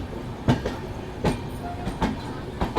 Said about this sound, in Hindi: अब हम लोग की ट्रेन आई है, अब ये इसे लगाया जाएगा प्लेटफॉर्म नंबर 2 पे।